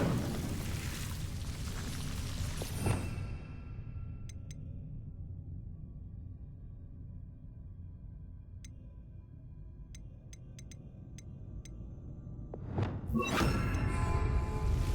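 Incendio fire spell burning away Devil's Snare in Hogwarts Legacy on Xbox Series X: a rushing whoosh and thud open the clip, a low steady ambient drone follows with a few faint ticks, and a second loud burst of flame arrives near the end.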